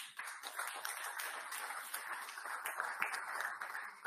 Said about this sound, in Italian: qui vi chiedo un altro applauso